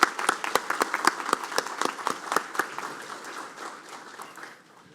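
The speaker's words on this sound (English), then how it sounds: "Everyone, please give the honor guard a round of applause and Ms. Anderson" An audience at a police academy graduation ceremony claps for the honor guard, a strong burst of applause that gradually thins and fades over a few seconds.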